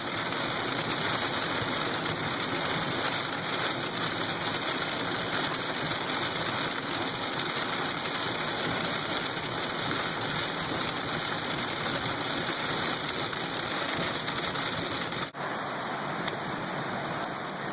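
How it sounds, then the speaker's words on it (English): Heavy rain pours steadily and densely throughout, a constant loud hiss with no voices, briefly dipping near the end before continuing. "it's raining like this because the grass really needed it."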